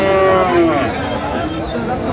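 A Friesian cross bull calf moos once, loud and close, at a busy cattle market, with crowd chatter behind it.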